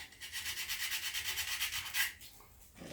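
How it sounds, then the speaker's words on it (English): Sandpaper rubbed back and forth over a wooden Gamo CF-30 air rifle stock, a quick even rhythm of about a dozen close scratchy strokes, then a pause and a softer final pass. "So what we're going to do, basically just going to sand"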